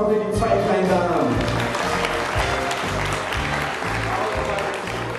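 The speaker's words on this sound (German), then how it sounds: "Großen Applaus nochmal für die zwei kleinen Damen." Wedding guests applauding at a German-hosted reception, a steady wash of clapping mixed with loud band music and crowd noise, continuous throughout.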